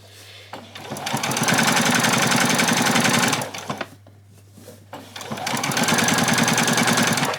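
A sewing machine runs in two long bursts of fast, steady stitching along a French seam on an apron, with a brief pause between runs; loud and close, with no talking.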